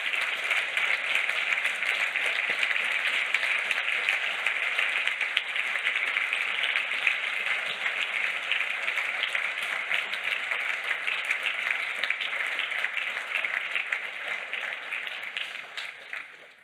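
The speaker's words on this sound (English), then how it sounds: "Round of applause for that." Sustained audience applause at the Ubuntu Summit 2023 conference, a dense wash of many hands clapping steadily for about sixteen seconds before starting to fade at the end, with no talk over it.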